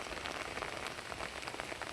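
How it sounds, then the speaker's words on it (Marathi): Steady heavy rain pours down, a dense continuous hiss with scattered drops pattering close by, no voices. "खूप पाऊस पडतोय."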